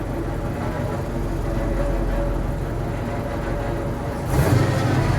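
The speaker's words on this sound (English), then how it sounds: "And now I'm gonna let off of the clutch, and you should start seeing that bed lift." A 1967 Ford F600 dump truck idles steadily as its PTO-driven hydraulics raise the bed, a continuous low mechanical drone that swells louder near the end as the engine revs.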